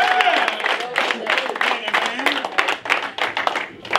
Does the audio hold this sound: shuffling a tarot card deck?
no